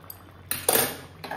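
Metal spoon clinks against a pot while checking whether potatoes in a simmering potato curry have boiled soft; a few short clatters, close and fairly quiet, with no talk.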